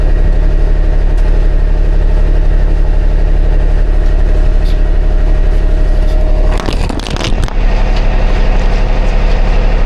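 A loud boat engine idles with a steady, droning rumble throughout, and a short burst of clatter breaks in near the end.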